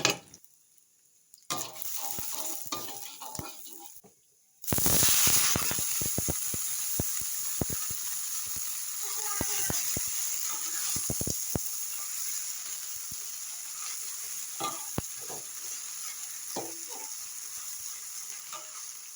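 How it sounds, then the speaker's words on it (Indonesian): Garlic being sautéed in hot oil, a sudden loud hiss bursting in after a brief quiet, then a steady sizzle with scattered spatter pops and faint utensil clinks; soft muffled noise before the burst. "ini untuk minyaknya udah panas, langsung aja aku masukin buat bawang putihnya untuk ditumis"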